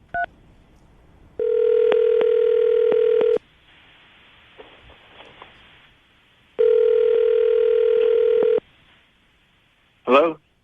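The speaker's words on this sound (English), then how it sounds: "I'm going to dial the phone number right now" A telephone dial tone sounds as two steady, loud stretches of about two seconds each, followed by a short burst of dialing tones at the end, before a call to a man about a date.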